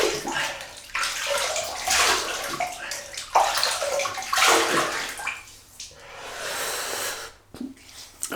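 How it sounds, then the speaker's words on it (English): Water splashes and drips as hands wet a face at a basin before a wet shave with soap, a series of close, loud splashing bursts with brief pauses and breathy sounds between. "just wet the old face."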